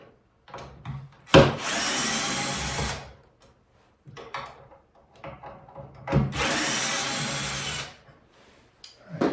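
A power drill backs screws out of a hinge on a piece of wooden furniture, with two sustained whirring runs of a couple of seconds each separated by quiet handling clicks, loud and close.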